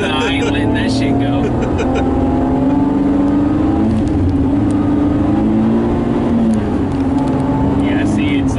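A car engine revs hard and steadily while the clutch refuses to engage, a loud continuous drone rising and wavering in pitch for several seconds with a brief dip near the end.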